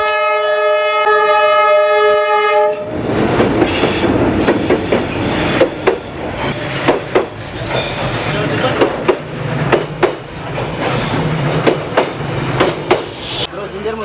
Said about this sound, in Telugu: అసలు ట్రైను ఎంత ఫాస్ట్గా వచ్చిందండి